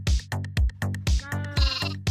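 Baby sheep from the Minecraft video game bleat in a series of short, loud, nasal calls, about seven in two seconds with brief gaps, close and clear with no talk.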